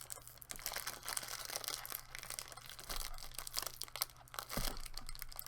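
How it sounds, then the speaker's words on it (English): A package being opened by hand, with close, quiet bursts of crinkling and tearing plastic in short irregular handfuls, plus a brief thump near the end. "I'm opening a package"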